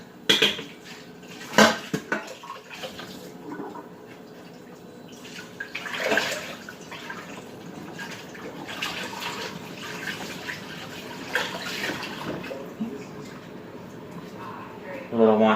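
A cake pan is washed under a running tap, with water splashing and metal clanking and scraping in bursts against the sink, while someone talks intermittently over the rinsing.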